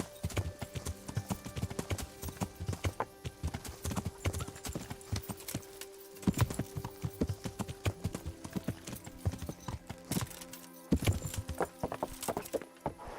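Horse hooves clip-clop in Kingdom Come: Deliverance, a steady, fairly close rhythm of hoof strikes with a brief whinny, carrying on for several seconds at modest volume.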